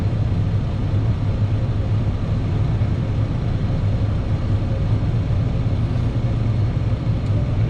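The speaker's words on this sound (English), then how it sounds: "When you hear the engine change in tone, release the brakes." A truck's diesel engine rumbling steadily and loudly up close as the brakes are released and it begins to roll during CDL driving practice, a dense continuous drone with no clear change in pitch.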